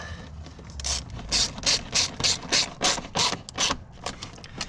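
A ratchet wrench tightens a fitting while a Ford Modular 5.4 cooling system is rebuilt, making about a dozen close, crisp clicking strokes in a steady rhythm.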